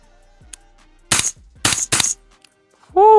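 A suppressed 300 Blackout rifle fires three soft, sharp shots in quick succession at close range, separated by brief quiet, with a short tonal beep at the end.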